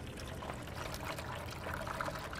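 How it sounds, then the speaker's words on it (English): Onion plants dunked and swished in a bucket of soapy water, a steady close sloshing, pouring wash of liquid that runs continuously with no talk. "you dump your onion plants into the bucket with the soapy water"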